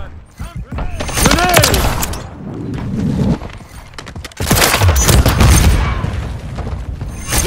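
Gunfire and explosive booms in a combat video game, loud bursts arriving in irregular clusters, mixed with radio-style voice callouts and other battle noise.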